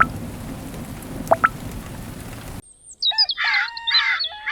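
Heavy rain pours around a poor family's hut in a steady hiss with a couple of sharp chirps, then cuts abruptly to quieter bird-like tweets and tonal calls.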